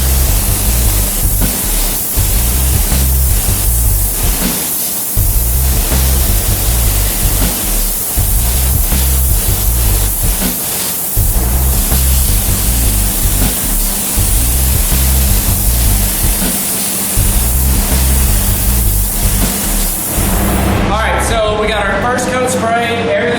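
A spray gun sprays a coating as a carbon film is applied, making a loud continuous hiss with rhythmic low pulsing throughout. Near the end the spray gives way to other sounds.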